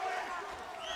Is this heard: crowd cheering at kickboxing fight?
yes